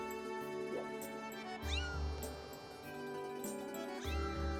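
A video game cat in Zelda Skyward Sword HD meows several times over steady background music, giving short, sliding mews spaced a second or two apart.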